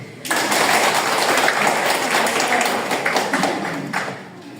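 Schoolchildren in a classroom clap their hands together, the burst starting abruptly, staying loud and lively for several seconds, then tapering off.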